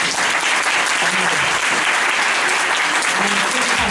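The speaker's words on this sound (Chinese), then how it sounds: "我们再掌声谢谢我们的欧阳立文大使" A live audience applauds an ambassador at the close of a talk, with dense, steady clapping that fills the whole stretch evenly and loudly, with no break.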